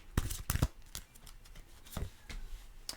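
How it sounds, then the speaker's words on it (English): Tarot cards being shuffled by hand, a quick run of soft riffling slaps and flicks, close and fairly quiet, in irregular bursts. "Let me pull a card right now."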